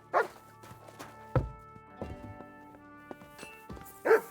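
A dog in Kingdom Come: Deliverance 2 gives several short, sharp barks spread across a few seconds, mixed with footstep-like thuds and faint background ambience, fairly close.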